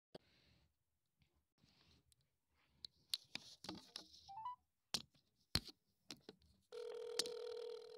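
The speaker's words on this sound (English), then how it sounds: "I'm going to be calling Goten because he blew up my phone earlier" Phone call being placed: a few scattered taps and clicks, a short burst of dialing tones, then a steady ringback tone at the end, fairly quiet and close.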